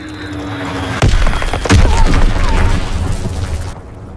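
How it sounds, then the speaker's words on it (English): Two heavy booming bomb blasts in a video game burst out about a second apart, loud and close, followed by a rumbling, crackling tail that fades after a few seconds. "Enemy bomb incoming. Get to cover."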